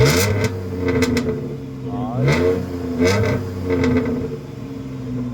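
A Dodge Magnum car engine revs in repeated bursts, rising and falling several times over a steady idle rumble.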